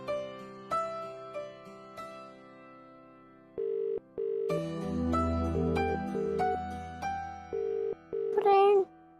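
A phone's melodic ringtone repeats, unanswered, in a quiet room, with a brief voice near the end.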